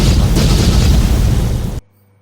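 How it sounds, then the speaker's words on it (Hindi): A loud, deep explosion roars and rumbles for nearly two seconds, then cuts off abruptly into near silence. "तभी एक कणभेदी धमाका हुआ"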